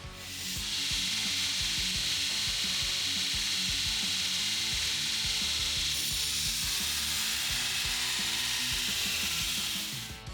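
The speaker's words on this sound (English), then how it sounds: "I'll rip off the bulk of the material with a 36 grit belt" A belt grinder with a coarse 36 grit belt rips material off a knife blank in a shop, a loud, steady abrasive roar with gritty scraping and a brief shift in pressure midway, continuous for ten seconds.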